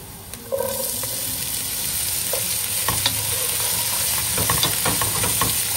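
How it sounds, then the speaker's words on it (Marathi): Onion hits a pan of browned ginger and garlic and starts frying, giving a steady loud sizzle with occasional stirring clicks and scrapes, no voices. "आलं आणि लसूण थोडासा ब्राऊन कलर झालाय, मी त्याच्यावरती कांदा घालते"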